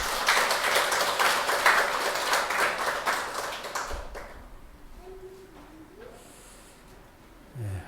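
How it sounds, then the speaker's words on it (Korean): A church congregation claps during a Korean Sunday worship service, with dense applause for about four seconds that then fades into quiet room tone and a faint voice. "우리 하나님께 감사와 영광의 박수 올려드리겠습니다."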